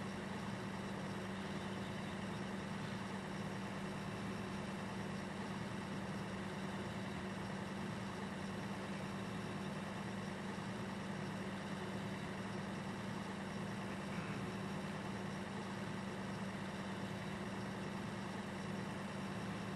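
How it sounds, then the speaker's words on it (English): A large 175-series tractor idles in Farming Simulator 2015, a steady low engine drone with a constant hum running unchanged and close throughout, with no voices. "So we're in the 175. It's a little big of a tractor for this,"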